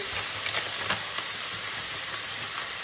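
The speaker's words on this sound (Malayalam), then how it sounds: "കുറച്ച് ടൊമാറ്റോ സോസ് കൂടി നമ്മൾ ആഡ് ചെയ്ത് കൊടുക്കണം കേട്ടോ നന്നായിട്ട് ഇളക്കി കൊടുക്കുക" Masala frying in a pan with tomato sauce, stirred as it cooks: a steady, close hiss of sizzling with a few faint scraping stir sounds and no voices.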